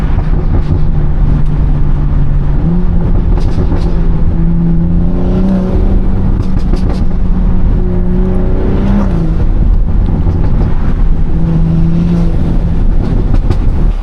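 BMW 340i with a loud performance exhaust, driven through traffic, giving a steady close droning note with rising and falling tones as the revs shift across the whole stretch.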